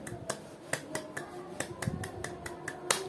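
Scouts in a classroom doing the tepuk pramuka, a rhythmic group clap: sharp, fairly quiet claps in an uneven patterned rhythm, about ten in three seconds, with no talking.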